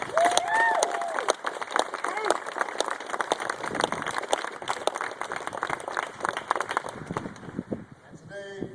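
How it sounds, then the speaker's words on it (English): Audience applause at a Wounded Warrior Project event at the White House, a steady wash of many hands clapping with crowd murmur, sustained throughout and fading slightly at the end. "Give them a big round of applause."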